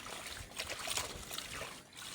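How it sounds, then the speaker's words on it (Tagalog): A strong, steady rush of water runs continuously during hand rinsing of laundry, a dense, moderately faint splashing flow with no pauses. "lakas mga kapabri ng tubig."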